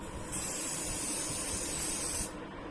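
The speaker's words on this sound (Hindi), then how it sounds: "मैं यहाँ पे दे रही हूँ सेटिंग स्प्रे, मैं यहाँ पे स्प्रे कर रही हूँ।" Setting spray misted onto styled hair in a salon styling lesson, one continuous close, loud hissing burst lasting about two seconds, with no talk.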